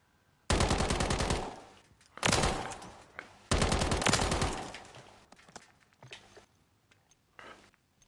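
Gunfire from an overpowered gun in the video game Fortnite: three long, loud rapid-fire bursts, then scattered fainter shots trailing off into near silence.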